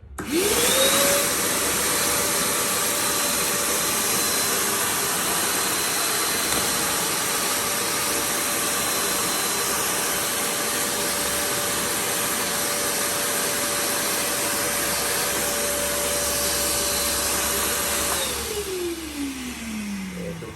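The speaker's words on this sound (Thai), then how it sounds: "อันนี้เราจะดูดเศษฝุ่นในบ้านให้ดูกันนะครับอันนี้ฝุ่นหนาๆเลย" A VALU 3-in-1 wet/dry vacuum cleaner with a 12-litre tank sucks up thick household dust, its motor whining up to a loud, steady roar that holds for about seventeen seconds before spinning down, with no talking.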